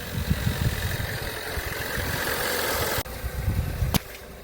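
Damaged, wrecked vehicle's engine running at idle, a close rough rumble with uneven thumping, cut by a sudden break and a sharp knock near the end.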